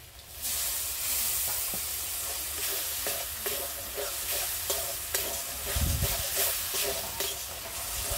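A spice paste with ground tomato, salt and turmeric is stir-fried in a pan, giving a steady sizzle broken by repeated scraping and stirring strokes, close and fairly loud.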